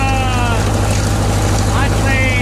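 An 1800s rock cruncher driven off a tractor's slow PTO, running at about 1,000 RPM: a steady, loud mechanical churn with a rhythmic low pulse, continuous throughout.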